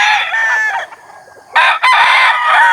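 A rooster crows loud and close, a drawn-out cock-a-doodle-doo with a short break, followed by another strong burst of crowing that runs on steadily.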